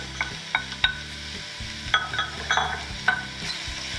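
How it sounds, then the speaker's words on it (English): Sliced mushrooms sautéing in a pan for a plant-based lasagna, giving a steady close sizzle with several sharp clinks and scrapes of a spoon stirring against the pan. "So you just want to saute for a couple of minutes. And then I'm adding 8 ounces of sliced mushrooms."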